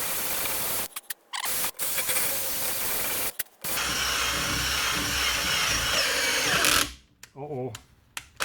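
A power drill whines steadily in bursts, broken by short pauses, drilling into the dipstick tube of a 2009-2013 Honda Fit to reach a broken dipstick, then cuts off near the end as a voice speaks over it.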